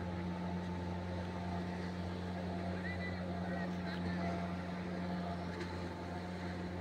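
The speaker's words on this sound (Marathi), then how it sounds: "ही चालली आहे होडी" A fishing boat's engine chugs past off a port beach, a steady low droning hum with a constant tonal throb, moderately loud and unchanging, with background noise from the shore around it.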